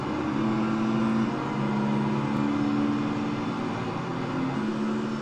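Steady engine drone of a vehicle driving in the dinosaur park game Jurassic World Evolution, a constant mid-level hum with a slight pitch shift partway through, alone with no talking.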